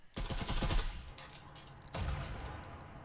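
Gunfire in the VR shooter Breachers during a competitive scrim match: a dense burst of shots up front, a lull, then a second stretch of rapid blind fire, with no talk.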